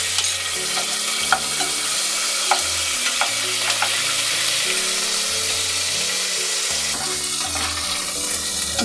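Ginger garlic paste fries in a hot pan for coconut milk biryani, giving a loud, steady close sizzle with occasional stirring scrapes over soft background music.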